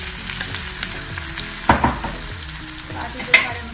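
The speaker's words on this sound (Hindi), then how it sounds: "इनको भी मैं हल्का सा फ्राई करूँगी प्याज के साथ" Onion, garlic and ginger sizzle steadily in an oil-filled pan for a spiced kebab masala, with a few louder scraping stirs cutting through the constant crackle.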